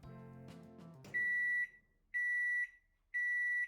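A microwave oven finishes its timer with three evenly spaced, clear electronic beeps, each about half a second long, preceded by the low hum and rattle of the running oven.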